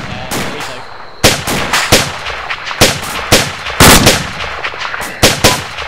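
Bursts of gunfire from a military video game, sharp loud shots arriving in irregular clusters across the span, some rapid and close together, with faint radio-style chatter underneath.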